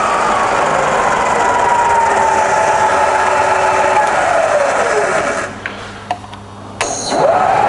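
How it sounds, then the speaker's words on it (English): A single-phase Bridgeport milling machine spindle driven by an inverter hums loudly with a steady whine that slides downward in pitch as it spins down, falls quiet with a few clicks, then starts up again with a rising whine. "You'll see the way the spindle starts up slightly slower than it would if it was running on 415 three-phase."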